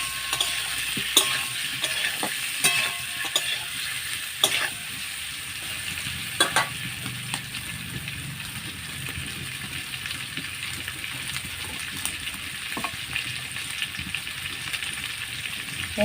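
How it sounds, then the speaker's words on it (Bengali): Potatoes fry in hot oil with a continuous soft crackling sizzle, punctuated by occasional clicks and scrapes of a utensil stirring the pan. "আমি আলুটা আগে ভেজে নিই"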